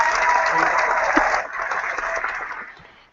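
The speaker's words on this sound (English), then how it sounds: "I'm going to clap for you." Clapping from a crowd on an online chat show, a dense burst of applause that fades out over about three seconds.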